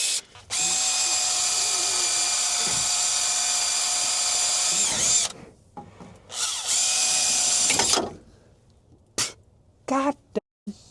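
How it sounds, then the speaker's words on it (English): A power drill whines loudly while drilling around a ruined sensor on a 1990s Genie man lift, a long steady run, then a second burst and short stop-start blips with a brief cough between. "I'm going to try and drill around the outside to start with"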